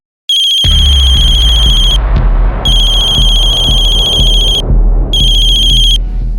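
Mobile phone ringtone in a Crime Patrol drama scene, a bright repeating electronic melody in three loud bursts with short pauses, over a low steady background rumble.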